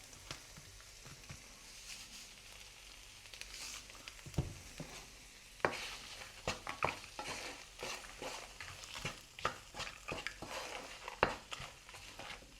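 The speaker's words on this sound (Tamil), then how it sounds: "உப்பு போட்டு நல்லா கலரி விட்டாச்சு" Food frying in a pan is stirred after salt goes in, giving a soft sizzle with scattered scraping and clinking of the utensil against the pan, fairly quiet and close.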